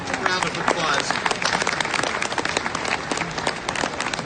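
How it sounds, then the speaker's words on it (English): Audience applause at the Pennsylvania Farm Show, a dense round of clapping from a crowd that runs steadily throughout, fairly close and full, with a few voices mixed faintly into the ovation. "So that's a round of applause"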